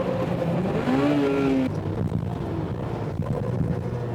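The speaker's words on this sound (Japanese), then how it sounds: "シビック R とスープラブレーキング勝負だ。" Sports cars, a Honda Civic Type R and a Toyota Supra, race side by side at Sportsland SUGO circuit, engines droning loudly with falling pitch under braking, then a steady lower roar with wind buffeting.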